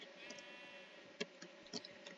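A sheep bleats in the Minecraft video game, short game-sound bursts rising over a steady faint tonal background, with a couple of brief clicks near the end.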